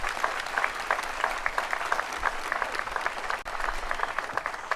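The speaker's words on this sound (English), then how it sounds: "big round of applause for your family, your friends, everybody who supported you" A commencement crowd at Knox College applauds graduates' families and supporters, a steady wash of clapping with individual claps audible and a brief dip near the end.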